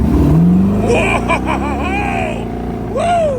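A '32 Ford Roadster hot rod pulling away hard from a stop, loud close engine roar rising in pitch, with excited shouts over it.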